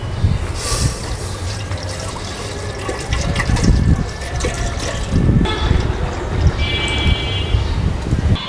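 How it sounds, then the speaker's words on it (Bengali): Water pours and splashes into flour for luchi dough in a steady, close trickle, with some brief knocks and splashes along the way. "অল্প অল্প পানি দিয়ে এখন আটাটা মাখিয়ে নিব লুচির জন্যে"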